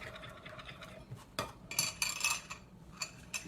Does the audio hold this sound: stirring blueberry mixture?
yes